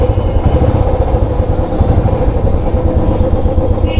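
A Royal Enfield Bullet motorcycle with over 100,000 km on it runs close and loud with a steady, thumping low engine rumble throughout, no talk over it.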